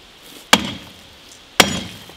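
Two sharp metallic strikes about a second apart, a hammer hitting rusted metal on a 1960 VW Beetle, each ringing briefly before fading, with nothing else around them.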